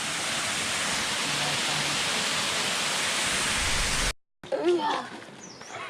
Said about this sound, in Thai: น้ำตกเพนพบใหม่ น้ำตกเพนพบใหม่นะคะ